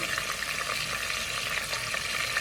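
Diced tomatoes and onions fry in a stew pot with a steady close hiss and sizzle and faint stirring underneath, even and unbroken, no voices.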